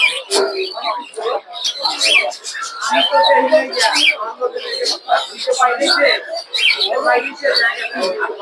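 Birds at a bird market chirp and tweet busily from many directions, among them cockatiels, lovebirds, Australian doves and a myna, with scattered cooing; people talk through much of it.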